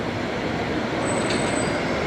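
A Thai night train rumbles steadily nearby as it departs, with a faint high metallic squeal rising from the wheels partway through; no one speaks.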